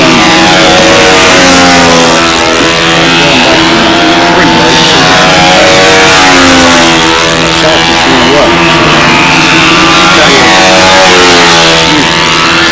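A model airplane engine runs at a windy 2003 Brodak fly-in, a loud, close, continuous buzzing whine whose pitch rises and dips slightly throughout.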